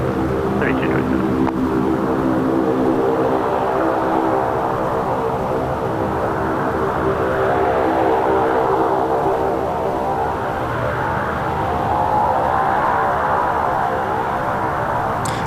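An airliner taking off from runway 16 right at Sydney Airport, a loud continuous jet roar that holds steady and swells slightly, heard from a spotting position with a low rumbling undertone.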